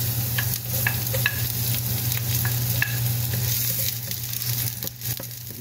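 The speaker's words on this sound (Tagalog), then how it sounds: "Tapos igisa po natin." Garlic, ginger and chili sauté in a hot pan for a ginataang burbot dish, giving a constant close sizzle broken by scattered light scrapes and clinks of a utensil stirring.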